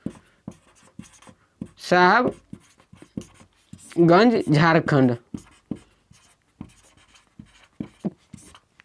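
Writing on a board during a geography lesson on the Ganga's tributaries: a close, steady series of short, scratchy strokes and taps runs through the whole stretch, briefly interrupted by a voice speaking twice.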